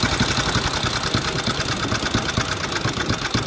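A 1927 Sunbeam Model 6 500cc motorcycle engine idles steadily with an even, continuous mechanical rumble and a regular ticking pulse, heard close and alone.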